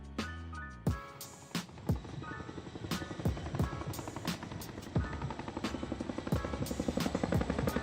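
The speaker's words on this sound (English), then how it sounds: "While the aircraft gets ready to perform its next maneuver" Indian Air Force aircraft at an air show during a mock drill, a loud engine roar with sweeping pitch changes, interrupted by sharp repeated cracks and bangs that grow more frequent toward the end.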